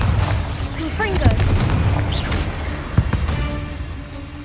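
Spell blasts from the Confringo and Bombarda curses in the game Hogwarts Legacy burst repeatedly amid a busy fight mix, with a sharp boom near the end standing out over steady background rumble.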